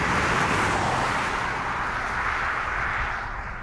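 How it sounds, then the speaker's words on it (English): BMW i8 hybrid sports car driving in electric mode, a steady broad whoosh of road and wind noise with a faint gearbox whine from the front axle, even and continuous, slowly fading toward the end. "You can just hear a little bit of gear whine from the gearbox over the front axle"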